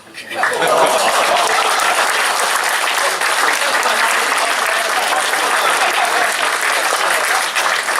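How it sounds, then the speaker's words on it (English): Loud, full applause from a luncheon crowd at a Lo Hei celebration, starting abruptly and holding a dense, even roar of clapping to the end. "Round of applause, please."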